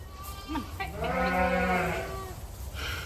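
A ewe in a pen gives a loud, wavering bleat up close, with another short bleat and barn background noise around it.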